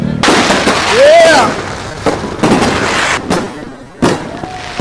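Fireworks set off for a celebration crack and boom in several loud bursts with whistling rises, with a voice cheering over them.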